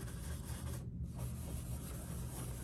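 A rag rubbed over a corroded surface produces a faint, steady scrubbing hiss with a brief pause partway through, heard close and alone.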